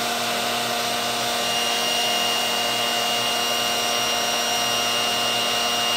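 A heat gun blows a steady, continuous stream of hot air while solder is applied to cable terminals, a loud broadband hiss with a constant motor hum underneath, running unbroken and close throughout, with no voices.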